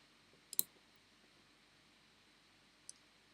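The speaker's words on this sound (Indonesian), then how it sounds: "Setelah itu baru kita krimping, tinggal di klik, biasanya sampai bunyi klik." A crimping tool squeezing a connector onto a network cable while making a straight-through cable, giving one sharp close click near the start and a fainter single click near the end, over quiet room tone.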